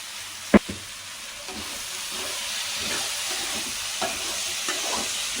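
Chili powder and salt are stirred into a curry in a pan over a steady close sizzling hiss, with a sharp knock near the start and a few soft spoon scrapes.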